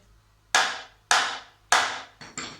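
Five sharp hammer strikes ring out, the first three evenly spaced and loud, the last two quicker and lighter, each with a brief metallic decay.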